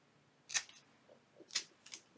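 Scissors snip through paper card in three quick, crisp cuts, close and faint, with quiet pauses between them and no talk.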